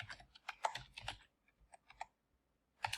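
Faint clusters of computer keyboard keystrokes come in short irregular bursts, with a quiet gap before a final few taps and no talking.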